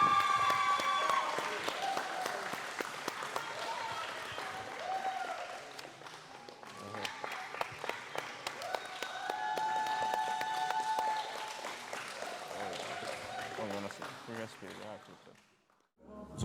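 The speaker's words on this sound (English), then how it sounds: "Put your hands together for Jamil Leos." A crowd at an MMA championship event applauds after a split-decision win, sustained clapping and cheering in a large hall, with talk heard over it, fading out near the end.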